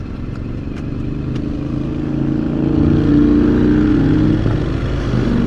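A 2020 Honda NC750X motorcycle engine drones steadily while riding, its pitch and loudness rising as the throttle opens, with wind rush over the top.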